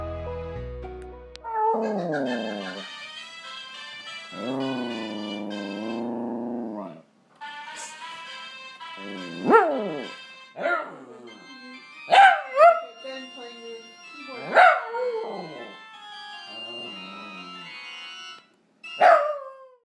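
Two Maltese-Shih Tzu dogs howl along to a keyboard, sustained notes from the instrument followed by several loud, rising howls and yips at close range, with pauses between them.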